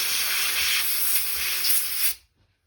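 Compressed air hisses steadily from a blower nozzle blowing out bolt holes on an engine top end during a 272 tear down, a loud continuous rush for about two seconds before cutting off abruptly.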